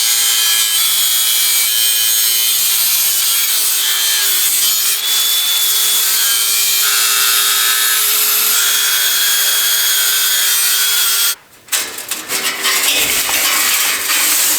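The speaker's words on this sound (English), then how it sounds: "Using the grinder cutoff wheel may not have been the fastest or the best feeling on my hands, but it worked" Angle grinder fitted with a cutoff wheel slicing through plastic pallet wrapping straps, a loud sustained abrasive whine and grinding that runs steadily, then cuts out briefly near the end before resuming.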